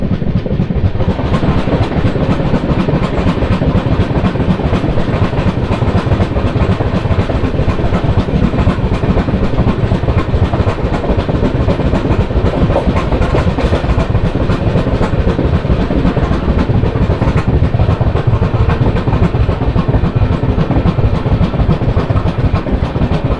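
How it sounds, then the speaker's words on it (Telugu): A Miryalaguda–Kacheguda MEMU train runs on the tracks with a loud, steady rumble and rapid clickety-clack of wheels over rail joints, heard continuously from close by without speech. "మిరియాలగూడ కాచిగూడ మెమో ట్రైన్ ఇది."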